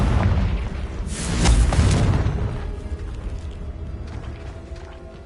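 A Confringo spell blast in Hogwarts Legacy lands as a deep, loud boom with a bright burst that swells then fades into a rumbling tail, close and without talk.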